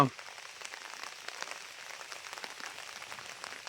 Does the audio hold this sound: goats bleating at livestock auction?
no